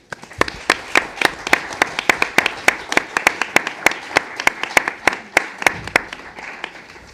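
A lecture audience at the BnF in Paris applauds after a literary talk, sharp individual claps ringing out in a steady, fairly sparse rhythm across the whole stretch with no voices over them.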